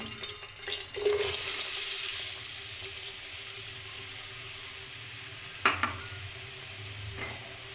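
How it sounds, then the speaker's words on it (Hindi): Onions dropped into hot oil in a cooking pot for an aloo palak dish, giving a broad close sizzle that settles into a steady hiss, with a couple of sharp utensil clinks near the end. "मैंने एक पतीली ली है, उसमें मैंने ऑयल डाली है। अब मैं इसके अंदर प्याज डालूँगी।"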